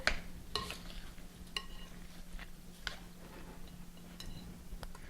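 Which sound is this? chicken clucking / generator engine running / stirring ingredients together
stirring ingredients together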